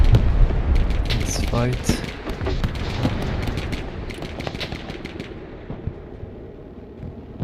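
Artillery fire in the war game Broken Arrow: several heavy booms and distant blasts crowd the first seconds, then fade to a low rumble, with a voice talking over them.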